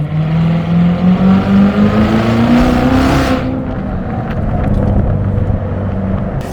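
C7 Corvette Z06 accelerating hard on the road, its engine roaring loud and close with a rising tone, then crackling exhaust pops as the throttle comes off, all without talk.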